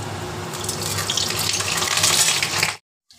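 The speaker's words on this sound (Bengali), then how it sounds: "এখন আমি এই আলু আর পেঁয়াজটা ভেজে নেব।" Potatoes and onion hit hot mustard oil in a wok, tempered with dried red chilli and bay leaf, setting off a loud, close, steady sizzle that builds for a few seconds before cutting off abruptly.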